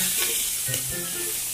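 Food frying in a pan for a home-cooked iskabitsi dinner, a steady close sizzle and hiss with a few sharper pops and crackles of splattering oil throughout, no talking.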